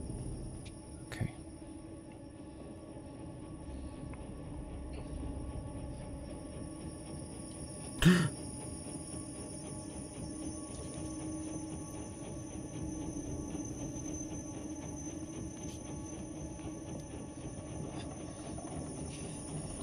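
Steady low rumble of an underground train in the game Inside, a continuous droning hum with a couple of brief clanks, heard alone without voices.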